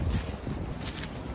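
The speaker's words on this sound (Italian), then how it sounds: "Oggi c'è tantissimo vento e spero che non dia, diciamo, problemi all'audio del video" Strong wind buffets an outdoor microphone on a mountain trail in the Ligurian Apennines, a continuous loud rumbling roar with gusty low-end noise and no voices.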